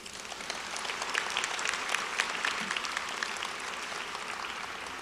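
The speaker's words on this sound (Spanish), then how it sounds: "Un aplauso." A crowd at a women's political event applauds for several seconds, an even, full roll of many hands clapping with a few sharper claps standing out.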